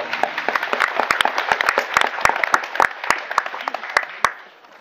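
A studio audience at a Taiwanese TV variety show applauds to welcome a singer-actor guest. The clapping is dense and sustained, with sharp individual claps standing out, and it fades near the end.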